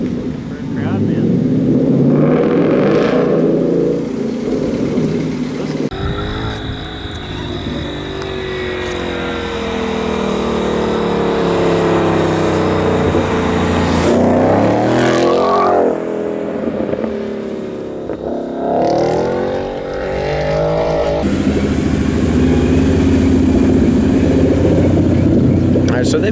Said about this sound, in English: I think the exhaust sounds weird.